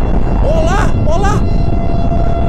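A siren in an island mystery video game wails with rising and falling tones, two swells heard over a dense, loud rumbling background.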